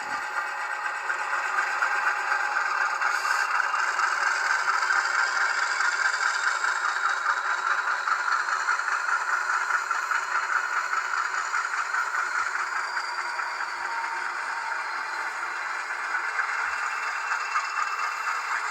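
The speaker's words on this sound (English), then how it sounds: "You heard the prime mover spool up." An HO scale Rapido U25B model locomotive's sound system runs its prime mover, a steady electronic diesel drone with faint rattling texture that swells slightly early, then holds, close and alone.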